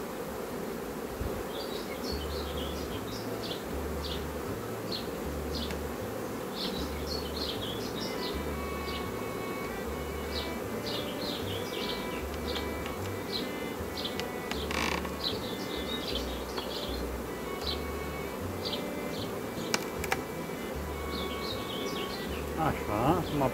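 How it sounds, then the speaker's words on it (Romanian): Honeybees from a natural swarm without a queen buzz steadily around their hive, a dense continuous drone close by, with faint bird chirps in the background and a low rhythmic thumping beneath. "Așa, acum poate să iasă albinițele."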